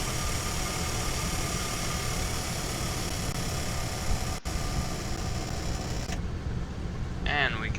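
Douglas DC-3 piston engines running steadily in Flight Simulator X, a constant droning rumble at even volume throughout, briefly cut by a short dropout.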